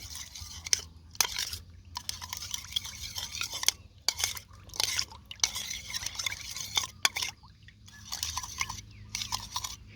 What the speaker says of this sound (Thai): ละลายกะปิให้เข้ากันให้ละลายก่อน